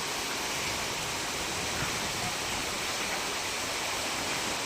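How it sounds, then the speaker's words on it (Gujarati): A heavy downpour in Kalavad, Gujarat, pours down as a dense, even hiss, driven by strong wind and holding constant throughout with no voices. "આ તસવીરો આવી રહી છે કાલાવડની કે જ્યાં ધોધમાર વરસાદ વરસ્યો"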